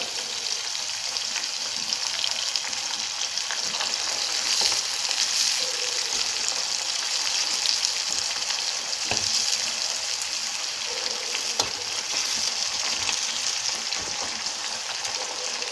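Hot oil sizzles and crackles steadily as neem leaves and herbs fry in it, a loud continuous frying hiss with occasional pops.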